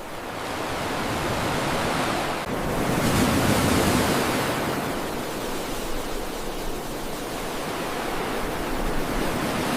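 Ocean waves crash and wash onto a tropical beach on Réunion Island, a dense, steady roar swelling and easing under gusting wind, loud and close with no voices.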